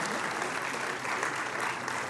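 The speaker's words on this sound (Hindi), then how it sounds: "जरा तालियां ढंग से बजाइए, अच्छा लगेगा" A crowd applauds at a welcome ceremony for a Sindhu Darshan Yatra pilgrimage, producing dense, continuous clapping that stays close and steady for the whole stretch with no gaps.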